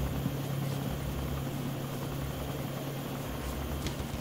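Helicopter in the video game Arma II at night, a steady droning rotor and engine hum with a low tonal whine, constant and fairly close, with no talking.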